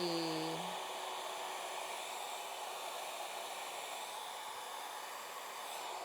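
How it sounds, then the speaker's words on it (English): A handheld blow dryer runs steadily on hair, a constant loud airy whoosh lasting several seconds with a brief higher whine at the start. "Okay, I'm gonna stop there with this blow dryer."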